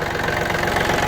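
A Japanese Yanmar F-210 mini tractor engine runs under an open hood, a loud, steady close-up diesel idle with a rapid knocking chug and constant vibration, with no voices.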